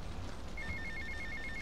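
Phone ringing in Grand Theft Auto: Vice City, a repeating electronic trill starting partway in and pulsing evenly against a steady game background hum, moderately quiet, no speech.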